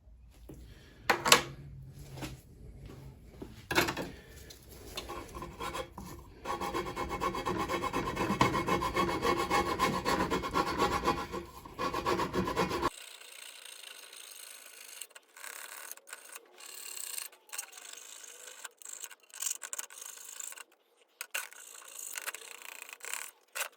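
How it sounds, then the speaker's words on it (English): Old gasket being scraped off the engine jointing surface of a Jeep Patriot/Compass CRD diesel: dense, continuous rasping and rubbing up close for about thirteen seconds, then scattered short scrapes and taps. "Now it just leaves me to clean up this jointing surface all the way around the outside here."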